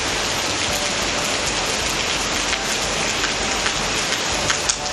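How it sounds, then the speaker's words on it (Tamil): Heavy nighttime rain in Coimbatore, a dense, steady hiss of downpour close by with scattered drop spatters, no distinct thunder claps standing out. "இரவு நேரத்தில் இடி மின்னலுடன் மழை பெய்தது"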